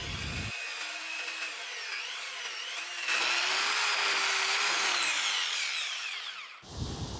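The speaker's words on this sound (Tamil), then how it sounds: "இப்போ நம்ம பாயிண்ட் பண்ணதெல்லாம் அப்படியே ட்ரில் பண்ணி ஓட்ட போட்டுக்கிறேன்" Electric drill boring screw holes in wood while building a homemade flour mill, a steady high whine rising in pitch as the bit bites, running nearly continuously and close, then cutting off near the end.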